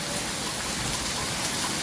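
Dense, steady roar of heavy rain pouring down, close and loud throughout with no let-up.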